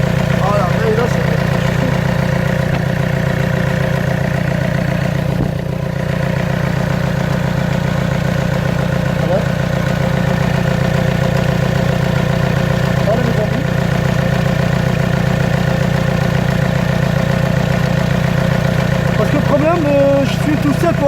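A diesel car engine idles steadily and loudly nearby through a long electronic injector test, with one injector faulty, a constant low drone with only slight dips.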